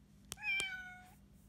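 A recorded kitten meow from a children's animal sound book, one short high mewing cry played after a couple of button clicks, near and alone.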